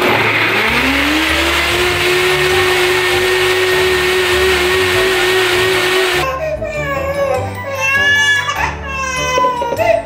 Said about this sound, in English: it's just a blender.